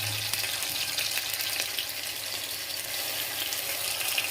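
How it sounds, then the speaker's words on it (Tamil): Ginger garlic paste fries in a hot pan with sautéed onions, giving a loud, dense, continuous sizzle that stays even throughout. "இப்போ இதில் நான் இஞ்சி பூண்டு பேஸ்ட்டு போடுறேன்."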